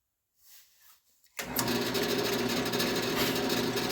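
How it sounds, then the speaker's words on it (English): After a second of quiet, a wood lathe spins up and a scraper lightly works a burl wood box, a loud steady buzzing whir with a rough, rapid chatter running continuously until the end. "I'm just going to do a light scrape out to the foot."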